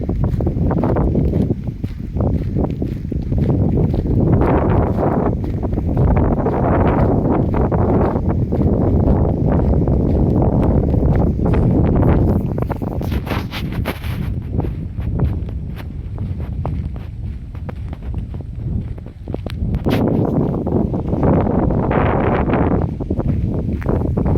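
Steady broadband wind rushes across an open stretch of Thorpeness golf course in Suffolk, loud and continuous throughout, with possible footsteps faintly mixed in.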